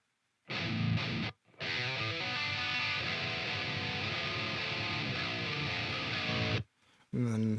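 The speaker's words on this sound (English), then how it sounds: "This is what the Mesa sounds like." Distorted metal guitar tone through a Mesa cabinet amp simulation plugin: a brief chord stab, then a steady loud chugging riff lasting about five seconds before cutting off, with another burst at the end.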